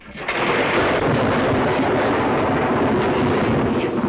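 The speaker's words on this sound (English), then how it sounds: "this is the first film to use that classic thunderclap sound effect" The classic thunderclap sound effect from the 1931 film Frankenstein erupts suddenly into a loud, deep, rolling rumble that holds steady and heavy for several seconds, with no voices over it.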